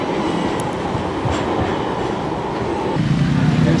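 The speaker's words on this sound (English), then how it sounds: "you can take that tram" A tram rolls along a street in Istanbul, a steady near rumble of wheels on rails with faint clatter, swelling slightly louder toward the end.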